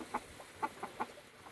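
A black Silkie rooster gives a few soft, short clucks on a homestead, spaced irregularly and fairly quiet with no one speaking.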